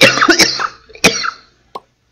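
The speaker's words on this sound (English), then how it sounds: "I think that's the result of constant coughing" A man lets out a burst of harsh, close coughs, then a single louder cough, trailing off into a brief throat clear before silence.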